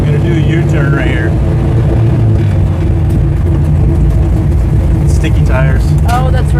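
A 1968 Dodge Charger engine rumbling steadily and loudly as the car swings through a tight U-turn, with voices talking over the constant low drone.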